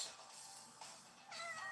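A house cat lets out two or three thin, plaintive meows in quick succession, close and fairly clear, with no talking.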